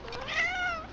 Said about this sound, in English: My cat is freaked out by the storm, so he keeps trying to attack me.